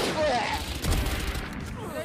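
Bursts of Valorant gunfire crackle amid loud, excited Spanish shouting from several players, with a booming blast midway.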